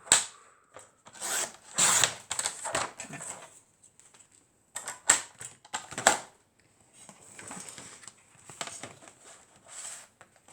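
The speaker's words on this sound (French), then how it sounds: "Donc, je prends mon massicot. Et je coupe un petit bout." Paper trimmer slicing a page for a pink scrapbook album cover, heard as a series of short, crisp scraping and rubbing strokes in uneven bursts with quiet gaps between them.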